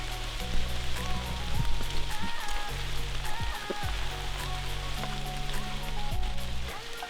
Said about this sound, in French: La pluie aujourd'hui